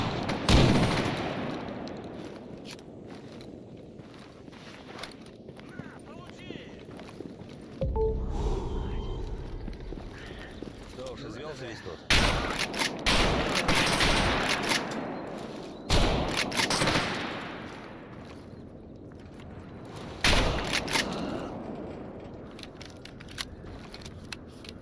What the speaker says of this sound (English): And I have also changed the sounds to make them sound a bit different from the other shotguns